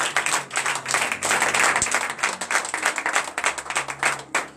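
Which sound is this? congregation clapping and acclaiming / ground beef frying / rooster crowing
congregation clapping and acclaiming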